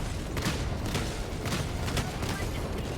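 Gas barrage strike in the video game Helldivers 2, a steady wash of muffled rumbling blasts with repeated sharp bursts about every half second, fairly distant and dense.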